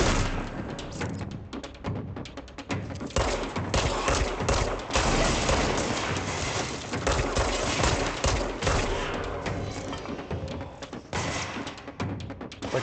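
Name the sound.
gunfire from enemies shooting in the video game Control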